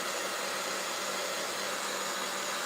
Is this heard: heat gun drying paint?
yes